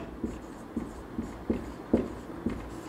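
Chalk or marker taps and scratches on a classroom board in a steady series of short strokes, close and quiet, with no talk.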